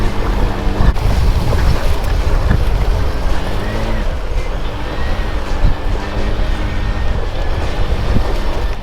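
An Aprilia SR GT200 scooter wades through deep river water, giving a loud, steady rush of churning water and engine drone throughout with no pauses.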